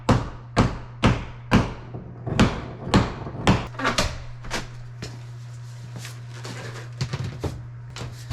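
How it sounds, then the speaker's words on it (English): Door being torn out of a house wall: a series of loud, sharp thuds and bangs at irregular intervals over a steady low hum, with scraping and rattling between hits. "So let's rip out that door."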